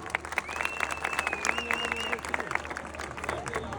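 Applause from the crowd at an oil wrestling festival in Çamlıdere, scattered claps rising under a voice talking over a loudspeaker, with a musical tone and background crowd noise around it.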